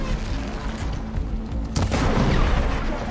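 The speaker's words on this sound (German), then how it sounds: "So, das haben wir zum Explodieren gebracht." An explosion in the video game Horizon Forbidden West: a sudden loud blast bursts out midway through a steady wash of game noise, then leaves a heavy, sustained rumble.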